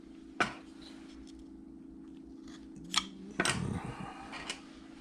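A knife cuts into a wooden Santa carved from a bandsaw blank, giving a few sharp close clicks and scrapes spaced over several seconds against a quiet steady hum.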